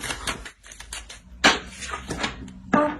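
Tarot card drawn from a deck and set down on a table, a few sharp papery snaps and slaps spaced unevenly, close and fairly clear with no talk over them.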